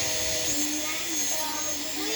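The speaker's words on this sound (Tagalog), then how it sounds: "Ang lakas ng fan." A small handheld mini electric fan runs loud and close, a steady whirring hum with a high whine that holds constant for the whole short stretch.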